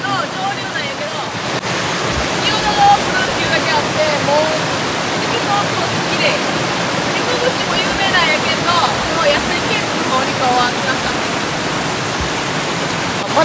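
Rushing water on the upper Niyodo River in Kochi on a clear morning, a loud, steady broadband roar that carries on unbroken throughout, with some wind against the microphone.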